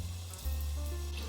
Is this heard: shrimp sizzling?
yes